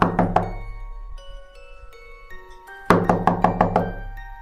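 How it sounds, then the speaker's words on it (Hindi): Knocking on a house door in the morning comes as a quick burst of raps, a quiet pause with a few light taps, then another loud run of about six firm knocks. "ठीक 1 महीने बाद सुबह सुबह घर के दरवाजे के ऊपर खटखटाहट होती है।"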